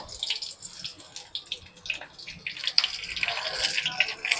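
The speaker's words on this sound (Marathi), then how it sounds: "आता त्यात आपण ठेवलेला एक टेबल स्पून जिरं घालायचं मिरच्या तोडून घालायच्या" Cumin seeds and broken green chillies sizzle and crackle in hot oil for cabbage chutney, a close, uneven frying hiss with sharp pops, no talking.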